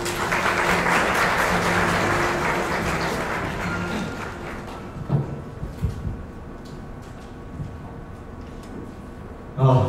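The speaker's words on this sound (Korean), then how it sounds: "박수로 맞아주세요" A conference audience at DE-FERENCE 2018 claps to welcome a speaker to the stage, the applause dense for about four seconds before dying away into scattered footsteps and stage noises.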